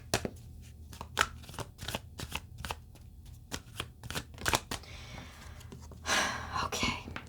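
Tarot cards are shuffled up close in a series of sharp riffling bursts and snaps at an uneven rhythm, ending in a longer flurry of shuffling.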